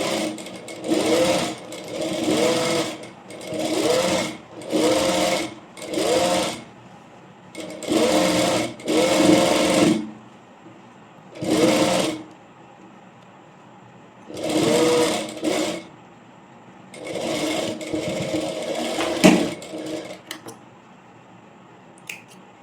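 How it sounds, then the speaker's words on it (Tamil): Sewing machine top-stitching the seams of a plain sleeved frock, running in repeated short bursts of whirring with brief pauses between them, close and steady, with no talk. "இப்போ டாப் ஸ்டிச் போட்டுக்கலாம்."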